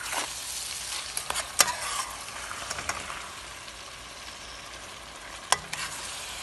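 Sausage sizzles in a hot pan on turned-up heat, a steady crackling fry broken by occasional scraping clicks of stirring, close and without any talk.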